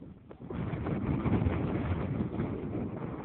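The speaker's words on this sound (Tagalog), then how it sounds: "Ang hangin!" Strong gusting wind on the summit of Mount Banahaw buffets the microphone in a continuous low roar with no voices.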